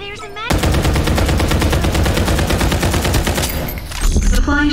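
Rapid sustained automatic gunfire from the Farlight 84 battle royale game, a dense continuous burst of shots lasting several seconds, loud and close, with a brief quieter lead-in.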